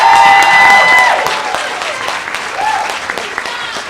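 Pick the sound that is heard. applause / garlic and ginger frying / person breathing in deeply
applause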